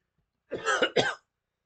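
A single short burst of two quick coughs, close and clear, followed by silence.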